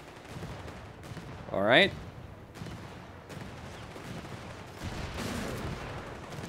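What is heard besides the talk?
sniper gunfire in the video game Company of Heroes 3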